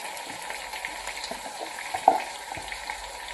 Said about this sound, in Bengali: চিকেনটা একটু ভাজা মতো করে নিয়েছি, নিয়ে তেলে প্রথমে, তারপরে গ্রেভিটা দিয়ে দিচ্ছি।